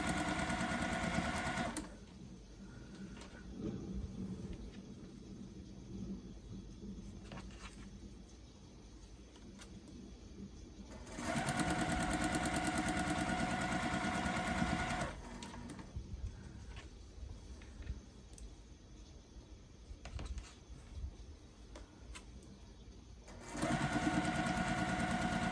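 A freshly cleaned and oiled sewing machine stitches a quilt block in three steady, buzzing runs of rapid stitching, separated by quieter pauses filled with handling sounds.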